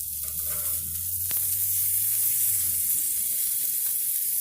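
Skin-on chargrilled chicken sizzles on a hot grill after being flipped, a steady close hiss with a low rumble underneath and one brief sharp tick partway through.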